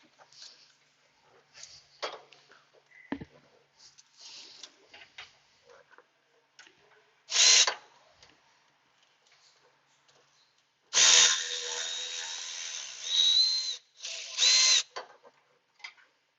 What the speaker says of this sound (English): I think got it loose enough I can get 1/4 inch Milwaukee on it.